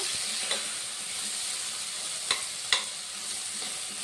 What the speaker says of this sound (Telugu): వీటిని ఒక రెండు నిమిషాల వరకు ఇట్లా కలుపుతూ వేయించుకోవాలి